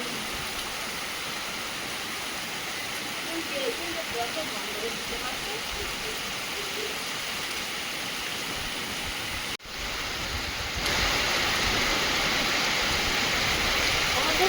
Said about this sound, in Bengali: বৃষ্টিটা হচ্ছে মুষলধারে।